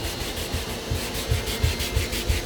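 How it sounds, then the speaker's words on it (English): A brush scrubs carpet soaked in all-purpose cleaner over ketchup, mustard, hot sauce and coffee stains, giving a close, continuous rhythmic scrape with regular back-and-forth strokes. "And I'm gonna let this APC sit on there pretty good, and then we're gonna scrub it."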